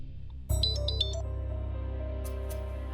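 After a brief quiet moment, a phone starts ringing with a bright electronic tone over a low steady hum, continuing at an even level.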